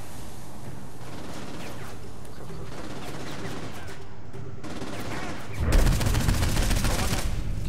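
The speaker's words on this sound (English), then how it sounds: "Oh, I'm getting shot." Gunfire from Saints Row 4 erupts as a sudden dense burst near the end, following a quieter stretch of game ambience, loud and rapid like a fusillade.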